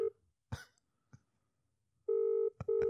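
A phone call is dialed and rings out: short tone beeps and two longer ringback tones, near and clear, with a cough and a throat clearing in between.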